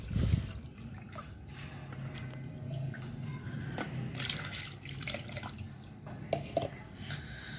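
Water being poured into a cup to measure two cups for semolina and flour maamoul dough, a steady close trickle with small splashes and clinks, no talking.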